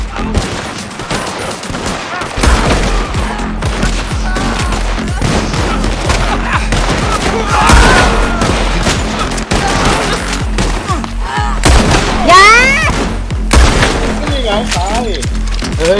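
Gunfire in a video game, rapid bursts and repeated loud shots crackling close up over game effects, with someone talking throughout.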